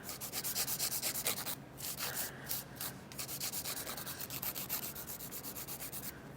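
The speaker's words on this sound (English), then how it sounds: "I always make sure that I'm filing around the edges and then come up from underneath" A nail file shapes fingernails into an almond form during a manicure, giving a steady, close scratchy rasp in quick repeated strokes with a few brief pauses.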